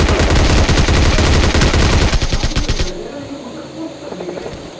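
Rapid automatic gunfire bursts loudly in the mobile shooter game PUBG Mobile Lite, dense rattling shots for a few seconds before the firing stops and quieter game ambience remains.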